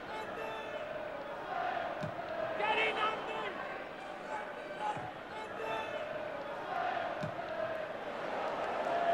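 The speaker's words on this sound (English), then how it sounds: "The crowd imploring the referee to blow the final whistle" A football crowd of nearly 19,000 at a Spurs v Aston Villa match urges the referee to blow the final whistle, a sustained roar of whistles and shouts with commentary running over it.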